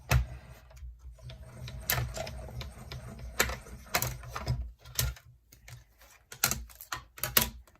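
Die-cutting machine cranked by hand for card making, giving irregular clicking and ratcheting taps in short bursts with quiet gaps, close and fairly soft.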